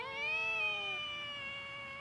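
A single drawn-out cat meow, clear and close, rising slightly then trailing off into quiet.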